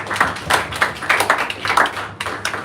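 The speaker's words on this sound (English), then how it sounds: "please, a round of applause for everybody." Applause at a mind-shift conference talk, heard as a modest, uneven patter of hand claps that swells and dips in bursts rather than a dense roar.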